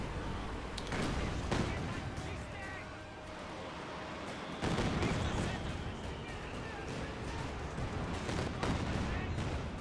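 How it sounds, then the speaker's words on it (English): Katyusha rocket artillery in the real-time strategy game Company of Heroes 2 lands in dense, rumbling volleys of blasts, with heavy explosions mixed among other battlefield gunfire throughout. "I hear a Katusha"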